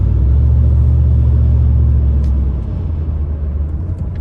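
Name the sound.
nasty vibration and rumble of a Ford F-150 truck driving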